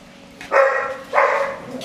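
Two sharp, loud dog barks close by, spaced about half a second apart, with quiet room noise in between.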